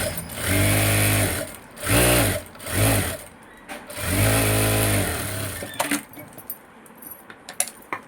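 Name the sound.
sewing machine stitching a folded fabric edge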